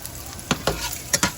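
Pork belly (liempo) fries in a pan for chop suey, a soft steady sizzle broken by a few sharp scraping stirs, close by, with no talking.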